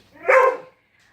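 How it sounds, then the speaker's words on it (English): A dog gives a single short, close bark, loud and alone, with quiet before and after. "I've got a dog who is putting in her 2 cents about that whole thing."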